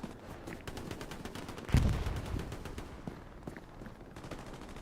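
Gunfire in the Hell Let Loose video game, a dense run of rapid shots with one heavier blast near the middle, over continuous battle noise and no clear speech.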